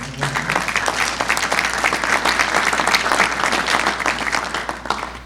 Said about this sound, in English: I'd like another round of applause for the Secretary.